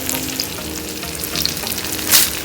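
Dried chilies dry-roasted in a pan give a steady crackling sizzle with light stirring scrapes, with a brighter burst of hissing near the end; nobody speaks.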